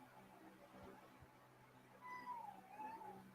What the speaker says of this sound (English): I think we got kitty cat wanting out, Piggy.